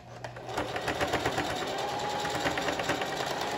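A sewing machine runs a steady straight stitch across a slingshot thong, its rapid needle clatter continuous and close for the whole stretch, with no talking.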